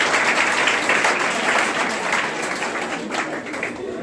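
An audience at a school Teacher's Day program claps in a dense, sustained burst that slowly thins and softens toward the end.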